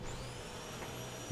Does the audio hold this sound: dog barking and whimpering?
no